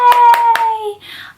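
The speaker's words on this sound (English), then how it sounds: "These shoes are clapping for" A pair of shoes clapped together three times in quick succession, sharp close taps over a faint sustained tone, with a short voiced sound at the end.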